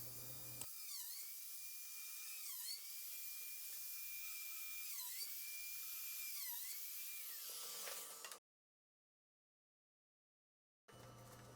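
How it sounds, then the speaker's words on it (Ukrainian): A high-pitched drill whines steadily for several seconds while boring dowel holes in wood, its pitch dipping rhythmically as it bites, then cuts off into silence before a brief return. "присадка на шканти."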